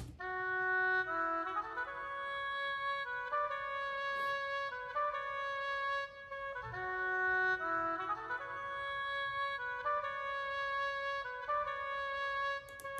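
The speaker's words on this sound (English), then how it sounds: "And I picked this legato oboe" A legato oboe top line from the Orchestral Essentials library in Kontakt, a smooth sustained melody of connected notes in a repeating phrase, played dry and fairly quiet without talking.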